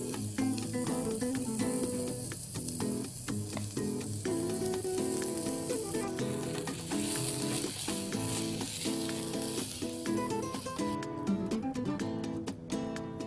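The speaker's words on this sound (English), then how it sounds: "Next, we'll be adding the corn paste." Sizzling corn paste and boiled vegetables go into a hot soup pot for sweet corn soup, giving a loud, continuous crackling fry with stirring, close and alone, with music playing along.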